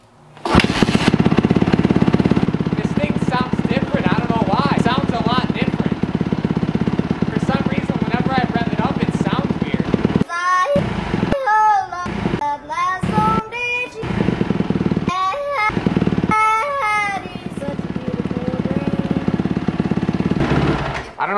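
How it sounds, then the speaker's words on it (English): A 2018 Kawasaki KX125 two-stroke dirt bike with a suspected running issue, its engine loud and close, droning steadily before a series of sharp rising revs and bursts, with speech faintly audible over the noise. "now we're going to fire this thing up, see how she sounds"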